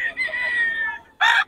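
A yellow-legged Hatch gamefowl rooster at an open-air market crows close by: a short, loud drawn-out call followed by a brief sharp final burst.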